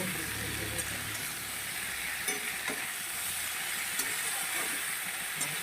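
Curry spices sauté in oil in a pan, a steady close sizzle and hiss with occasional faint scrapes of stirring, continuous and alone.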